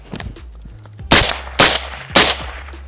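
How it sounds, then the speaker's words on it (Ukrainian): Three sharp rifle shots from a UAR-15 fired in quick succession as a function test, each a loud broadband crack about half a second apart, close by, after some low handling noise. "Зараз перевіряємо працездатність буквально трьома пострілами."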